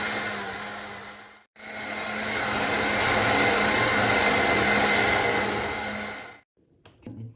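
An immersion blender purees a squash and pattison cream soup, whirring steadily and loudly up close for about five seconds, with a brief pause near the start, then cutting off.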